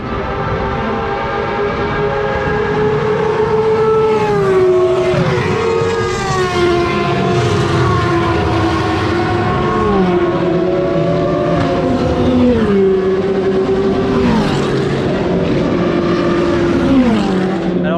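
Loud historic Formula 1 cars, including V10s, roar past in succession at Circuit Paul Ricard, their pitch sliding downward as each one goes by, continuous and close.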